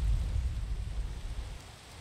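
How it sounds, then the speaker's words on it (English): Soft, steady video game rain with a low rumbling wash, faint and continuous for a couple of seconds with no talking. "There was no lightning. It was just rain."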